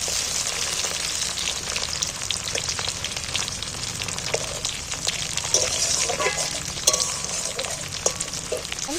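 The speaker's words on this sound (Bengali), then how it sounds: "টমেটমগুলো তুলে দিন একটু ভাজা করে নেবো পেঁয়াজের সাথে" Tomato pieces and onions fry in a pan with a dense, continuous sizzle and occasional stirring clinks, close by and steady throughout, with no one talking.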